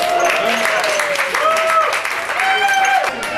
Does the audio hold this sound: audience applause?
yes